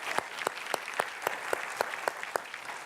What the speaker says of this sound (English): Please, let's give him a big round of applause.